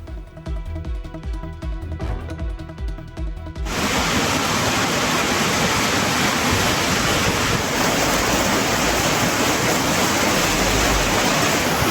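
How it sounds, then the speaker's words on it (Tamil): Heavy rain pouring over Kodaikanal and its surroundings, a loud dense continuous wash of noise that cuts in abruptly after a few seconds of music and keeps up steadily until the end. "கொடைக்கானல் மற்றும் சுற்றுவட்டார பகுதிகளில் 1 மணி நேரத்திற்கு மேலாக கனமழை வெளுத்து வாங்கியது"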